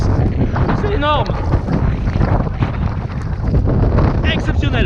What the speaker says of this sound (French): On se prend un vent de malade.